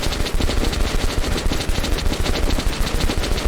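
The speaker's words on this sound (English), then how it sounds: "But we have a machine gun." Machine gun fire in the video game Metro: Last Light Redux, a loud sustained rapid burst of shots in an even, unbroken rhythm.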